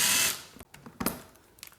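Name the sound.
ratchet removing a fairing bolt on a Yamaha R6 motorcycle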